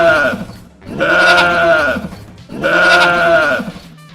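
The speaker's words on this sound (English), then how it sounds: "It's a goat." A goat bleats twice, each call a loud, drawn-out, wavering cry with a short pause between them, close by and with no talk over it.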